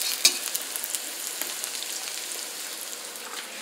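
Bell peppers sizzle and crackle steadily in a hot pan on high heat, a close, continuous frying hiss with small pops, and no voices over it.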